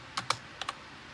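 A few quick clicks of keys on a computer keyboard, two pairs of close, light taps with a pause between, alone in a quiet room.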